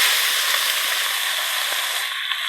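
Beef frying in a pot with oil, bay leaf and whole garam masala, giving a loud, steady hissing sizzle up close, with no speech.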